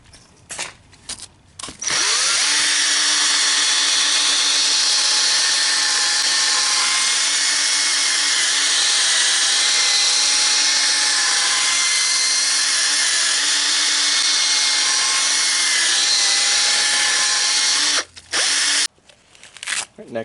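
Steady high-pitched whir of a power drill spinning a 1500 grit sanding pad against a car headlight, running continuously for most of the stretch, with brief handling clicks at the start and end.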